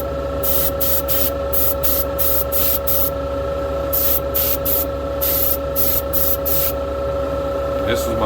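A Paasche spray gun hisses out paint in short, evenly spaced bursts, with a steady compressor hum running underneath throughout.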